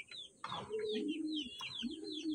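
Wantai racing pigeons coo softly and steadily at a distance, with repeated chirping calls over them throughout.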